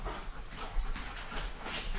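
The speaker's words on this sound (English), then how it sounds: "of course my Lucy is barking and acting ridiculous" A pet dog indoors makes restless whimpering and barking noises, faint and muffled against a low background hiss.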